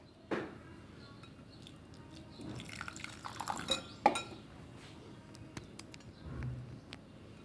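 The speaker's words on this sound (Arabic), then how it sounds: "تضيفوا الحليب وتخلطوا" Milk poured and stirred into a creamy mixture in a bowl, with soft clinks of a utensil against the dish and wet stirring sounds, moderately quiet and close.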